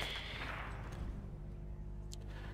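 Faint gunfire in the video game Warzone, a quick burst of shots early on over a low background hum, distant and brief.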